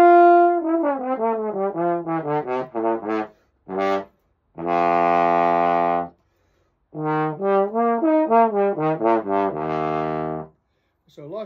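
A Blessing B88 large bore trombone is played up close in a series of short, separate notes, with a few longer held tones and brief pauses between phrases. It is heard alone, with no talking.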